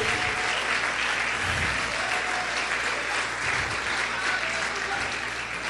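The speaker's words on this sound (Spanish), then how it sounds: "Dale más fuerte ese aplauso a Jesús." Sustained applause from a church congregation, steady and dense throughout, with faint voices mixed underneath.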